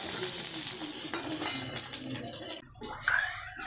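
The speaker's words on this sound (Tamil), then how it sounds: "கரைத்து வைத்த புளி தண்ணீரை விட்டாச்சு." Tamarind water hits a sizzling pan of kara kuzhambu base: a loud, hissing fry gives way to a sudden drop, then gurgling, bubbling splashes as the liquid settles.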